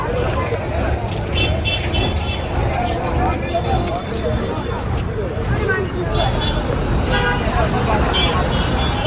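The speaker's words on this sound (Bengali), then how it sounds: "ভালো বাস দেখে উঠতে হবে, এগুলো সবই লোকাল বাস।" Local buses crowd a bus stand, with a steady loud roar of engines and traffic, scattered horn toots and a babble of voices throughout.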